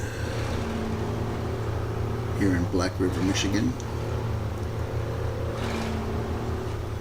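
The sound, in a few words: heavy duty truck driving through mud pit in SnowRunner video game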